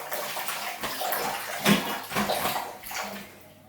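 Water splashes and sloshes in a bathtub as a cleaning brush is rinsed, close and uneven bursts of running water and swishing with no talk.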